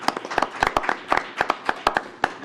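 A small group at a school board meeting claps, scattered sharp hand claps in an uneven rhythm, close and moderately loud with no voices.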